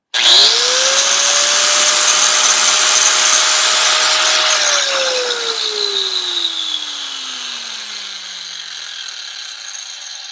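A Metabo 11 amp angle grinder spins up with a steady, loud high-pitched whine at no load, then winds down as the motor coasts to a stop, with no talking.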